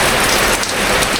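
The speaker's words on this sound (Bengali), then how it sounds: "আর বাহিরে প্রচণ্ড পরিমাণে বৃষ্টি হচ্ছে দেখেন।" Heavy rain pours outside in a village, a loud, dense, steady roar of drops drumming on surfaces with no gaps.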